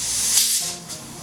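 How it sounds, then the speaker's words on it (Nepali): A pressure cooker on the stove vents steam through its whistle while cooking kwati, a Nepali mixed-bean soup, giving a loud, steady airy hiss that fades slightly after its first second, with no talk. "अब 1 सिटी लागिसकेको छ।"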